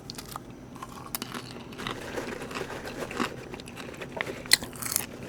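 Close-miked ASMR eating of popcorn: crisp, crunchy bites and steady chewing repeat throughout, with one sharper crack near the end and no talking.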